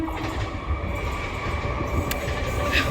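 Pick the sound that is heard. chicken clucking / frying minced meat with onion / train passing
train passing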